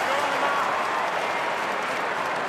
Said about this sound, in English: The Eagles fans have had something to cheer about, and they're giving them plenty